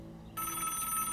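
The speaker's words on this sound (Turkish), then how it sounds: "Telefon çalıyor." An indoor telephone begins ringing abruptly, its steady electronic bell tone sounding close and fairly quiet over a low room hum, with no voices.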